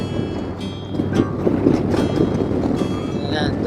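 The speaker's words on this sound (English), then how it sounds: "It's so windy" Strong wind buffets a microphone on a motorbike ride near the Blue Mountains during bushfires, a loud continuous rumbling roar with gusty swells throughout.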